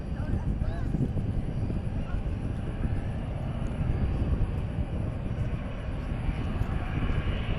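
A Qantas airliner departing gives a dense, rumbling jet roar that holds steady throughout, with a person speaking at times beneath it.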